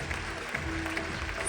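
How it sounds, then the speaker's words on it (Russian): Audience applause at a Faberlic partner company event on stage in Nalchik: a steady, dense wash of clapping from a crowd, holding at an even level throughout. "Аплодисменты!"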